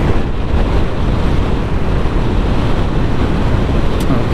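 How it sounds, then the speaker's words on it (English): Strong wind roaring across the microphone on a motorcycle ride along a Peak District mountain road aboard a Honda CB500X, a loud, continuous buffeting rush that drowns everything else. "It's now very windy up here."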